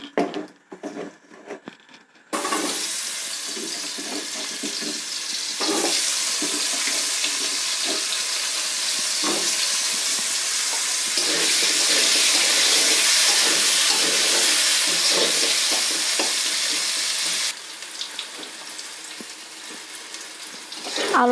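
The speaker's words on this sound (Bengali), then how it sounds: "আবারও আমি আলুটাকে ভালো করে ভেজে নেব।" Potato pieces fry in oil for a cauliflower and potato curry, giving a loud, steady sizzling hiss close by after a brief quieter start, with no voices.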